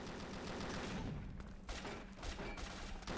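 Machine gun fire in 50 Cent: Blood on the Sand, a dense rattling fusillade of rapid shots with sharp cracks and thuds, loud and continuous through the short burst.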